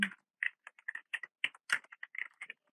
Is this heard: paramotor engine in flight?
no